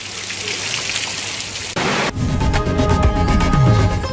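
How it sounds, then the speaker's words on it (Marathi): Heavy rain falls in a steady, loud hiss for under two seconds before abruptly giving way to a burst of music. "पुण्यात दमदार पाऊस सध्या कोसळतोय"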